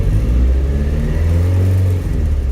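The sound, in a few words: Ford Escort Mk1 engine revving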